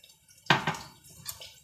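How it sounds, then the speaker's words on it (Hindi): Water is poured into a spice masala of ground coriander and red chili for a chana dal recipe, making one short close splash that trails off quietly. "ये सब डाल के इस मसाले में थोड़ा सा पानी डालेंगे।"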